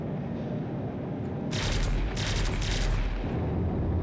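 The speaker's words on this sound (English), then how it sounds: "Again, laser repeaters." Laser repeaters on a Drake Cutlass Steel spaceship in Star Citizen fire in a rapid burst of bright zapping shots over a steady engine hum, starting midway and running in bunched pulses to the end.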